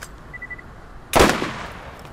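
A single loud gunshot burst from the video game Borderlands rings out and decays quickly after a quiet stretch, with no talk.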